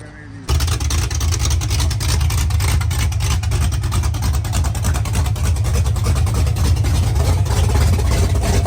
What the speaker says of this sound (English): We're gonna start the car and let it warm up.